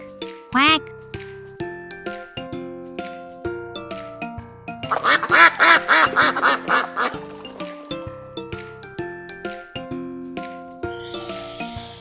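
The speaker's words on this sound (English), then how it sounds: "It's a duck. Quack." A cartoonish duck quacks in a rapid burst of loud nasal calls over bright, plinking children's music.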